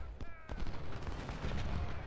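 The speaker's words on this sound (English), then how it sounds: "Cannons can start firing." Cannons fire canister shot in the Civil War strategy game Ultimate General: Civil War, making a dense, rumbling barrage of overlapping booms and crackling bursts that carries on without a break. No one speaks.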